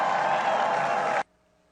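A rally crowd roars and cheers in one loud, dense burst of about a second before it cuts off abruptly into near silence.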